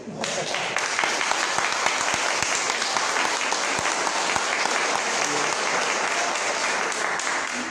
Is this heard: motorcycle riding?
no